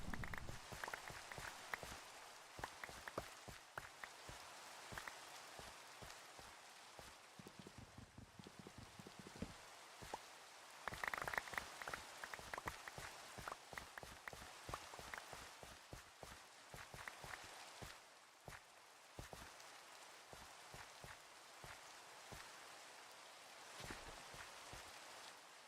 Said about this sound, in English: Now, of course it's raining.